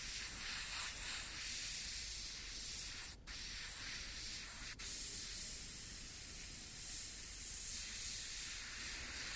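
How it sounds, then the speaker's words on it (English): An airbrush sprays paint through a stencil in a continuous bright hiss that holds steady and close for the whole stretch, broken only by two brief pauses where the trigger lets off. "this airbrush actually does not spray any finer with the cap off"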